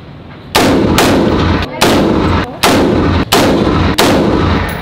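A shoulder-fired gun at an American shooting range fires five loud, sharp shots at a steady pace, each with a booming decay that rings out until the next.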